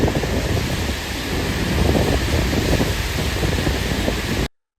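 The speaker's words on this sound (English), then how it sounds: "Water exploded out with full force, turning that little stream into a thundering flood." Loud, continuous roar of rushing water, dense and unbroken like a torrent, filling the whole clip before cutting off abruptly.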